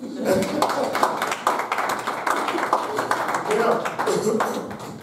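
A church congregation claps along during a French-language sermon, with scattered, uneven clapping mixed with voices throughout.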